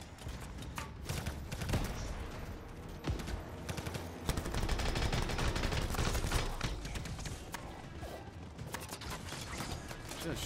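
Dense, continuous automatic weapon fire in the video game Anthem, with rapid bursts and mechanical clatter layered into a loud, busy combat mix that barely lets up across the whole stretch.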